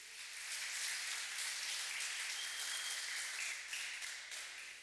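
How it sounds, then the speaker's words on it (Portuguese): Sustained applause from a church congregation, a steady wash of many hands clapping at low, somewhat distant level for the full few seconds. "Vamos aplaudir a Deus pelo Eutico aqui"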